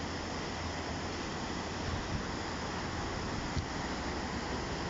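A large, wide river in Turda city rushes past under heavy pressure, a steady broadband roar of flowing water with no talk over it.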